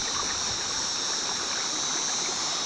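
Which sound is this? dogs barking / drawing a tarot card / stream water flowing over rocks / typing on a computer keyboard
stream water flowing over rocks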